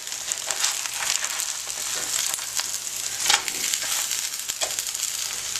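Tilapia fish fillets frying in a pan, with a steady crackling sizzle and occasional sharper pops as a spatula turns them, close and continuous.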